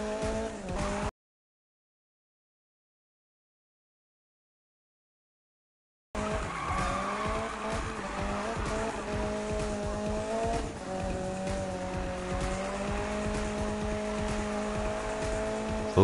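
Drifting race car in a PS4 racing video game: a loud engine roar with tire squeal cuts out completely for several seconds, then returns with sustained revving and skidding tires.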